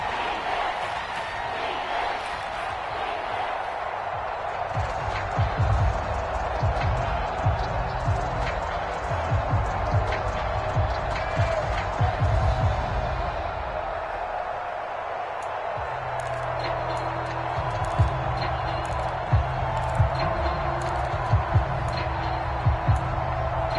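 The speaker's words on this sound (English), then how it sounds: "This crowd turning up the decibel level." Stadium crowd noise in a PS4 football video game, a constant loud roar that swells in the middle, with scattered clatter on top.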